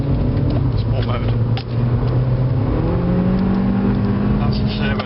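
Skoda Fabia vRS estate accelerating hard in sport mode as its turbocharger spools up, engine drone rising in pitch with a brief dip and climb again, loud and close from inside the cabin.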